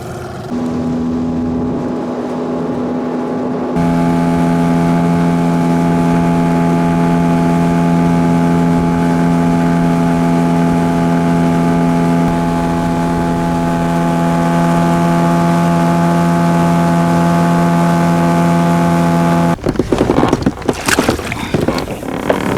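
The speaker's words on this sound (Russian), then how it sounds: "Вот такой вот моторчик." An 18-horsepower outboard motor running on a small fishing boat settles into a steady, close, humming drone after a noisy start. It holds an even pitch for about fifteen seconds before choppier noise takes over at the end.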